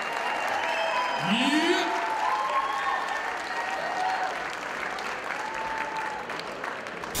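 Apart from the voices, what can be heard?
audience applause at house dance battle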